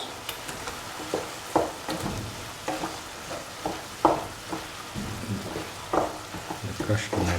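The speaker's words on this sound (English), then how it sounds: "In between, crush the tomatoes." Tomatoes are pressed and crushed in a sautéing frying pan for a mushroom stew, with repeated squelching thumps and spatula scrapes over a continuous sizzle.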